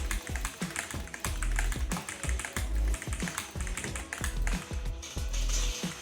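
Fast, crisp clicking of keys on a responsive gaming keyboard, a dense close-up stream of taps with brief bursts and tiny pauses, no talking.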